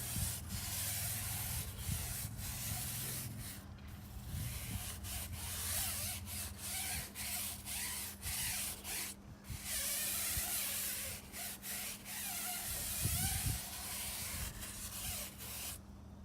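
Wheel cleaner is sprayed and worked by hand onto a car wheel, giving repeated short spray bursts over a steady close scrubbing and rubbing sound with no talk.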